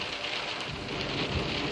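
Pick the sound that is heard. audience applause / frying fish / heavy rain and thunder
heavy rain and thunder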